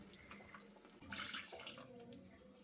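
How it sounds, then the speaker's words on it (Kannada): Water poured from a mixer jar into a pot of chicken curry gives a steady splashing gush lasting a couple of seconds, close and fairly loud, rising after a brief quieter start. "ನಾನು ಸ್ವಲ್ಪ ಮಿಕ್ಸಿ ಜಾರ್ಗೆ ನೀರನ್ನು ಹಾಕಿಬಿಟ್ಟು ಹಾಕ್ಕೊಳ್ತೀನಿ"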